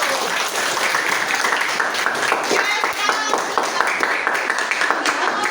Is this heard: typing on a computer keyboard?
no